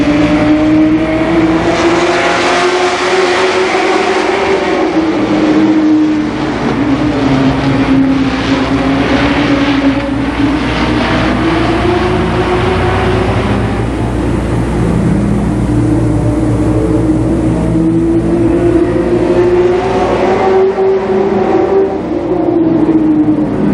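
Race cars lapping Columbus Motor Speedway in 1990, a loud continuous engine roar with pitch rising and falling as cars circle, sustained throughout with no break.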